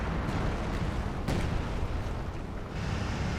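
An artillery barrage in the Company of Heroes 2 video game on the Port of Hamburg map, dense continuous rumbling with a few sharper blasts standing out, loud and sustained.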